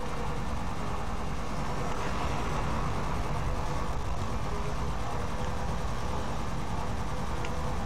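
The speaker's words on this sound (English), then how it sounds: "Now we're getting fancy with two helicopters." Two helicopters in the video game Agent Under Fire drone as a steady, loud, broadband engine and rotor roar that holds constant from start to finish, with no speech over it.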